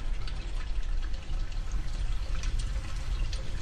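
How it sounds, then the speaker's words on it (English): Products are sprayed in a hydrogen peroxide bath, giving a steady close rush of spraying liquid with a low, rumbling wash underneath. "The products are sprayed in a bath of hydrogen peroxide."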